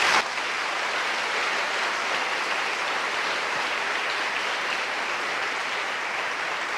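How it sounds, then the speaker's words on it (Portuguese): Congregation applauding during a Christian church program, a steady dense wash of clapping that starts abruptly and holds at an even level throughout, with no voices over it. "Vamos aplaudir o Senhor Jesus?"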